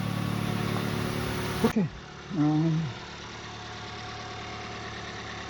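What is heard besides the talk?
2014 Mazda 3 2L engine idling after fuel injector change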